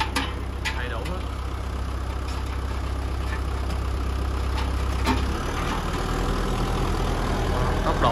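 A Mitsubishi GX510 with a four-cylinder 2.5 turbo engine runs steadily nearby, a constant low rumble with a faint high whine that holds for the whole stretch.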